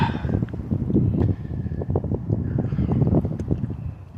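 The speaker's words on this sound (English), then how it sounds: "nothing but the whispers of the wind" Wind gusts buffet an outdoor microphone in a steady, rough rumble with fluttering bursts, loud and close, and no one talking.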